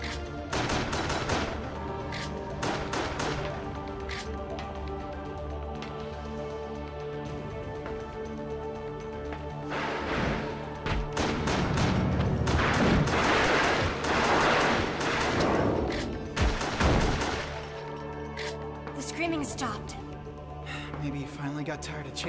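Rapid bursts of gunfire in Resident Evil: The Darkside Chronicles crackle throughout, with sharp individual shots and heavier volleys over rumbling background, while people talk over the shooting.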